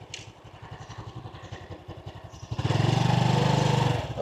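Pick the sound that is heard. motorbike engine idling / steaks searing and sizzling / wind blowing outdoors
motorbike engine idling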